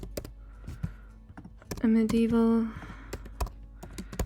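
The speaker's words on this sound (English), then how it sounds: "I'm going to start typing in, imagine, a medieval" Scattered keyboard clicks tapping at an uneven pace, with a voice speaking over part of it.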